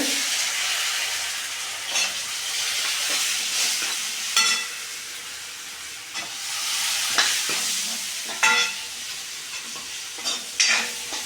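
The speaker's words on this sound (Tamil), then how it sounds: "இதையும் வதக்கணும்" Sweet potato sautéed in oil with sambar powder for vatha kuzhambu gives a steady, close sizzle, broken by several sharp stirring scrapes and clacks, with no talking.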